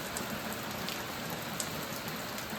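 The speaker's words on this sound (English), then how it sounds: "Never been so happy to see it rain" Steady rain falls on a rural farm, an even, soft, continuous patter with no voices present.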